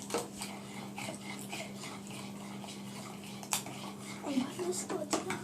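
A whisk beating in a bowl, quick light clinking strokes over a low steady hum, fairly quiet, with faint voices nearby.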